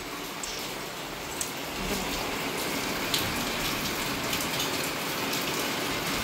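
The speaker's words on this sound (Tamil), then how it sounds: "இன்னைக்கு எங்கள் ஊரில் நல்லா மழை," Heavy rain falls steadily on surfaces in a village, a dense continuous hiss with scattered louder drops, close and even throughout with no one speaking.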